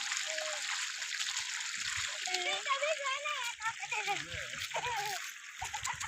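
Children splash and play in water, with bursts of splashing and sloshing through the whole stretch while kids' voices chatter and shout over it.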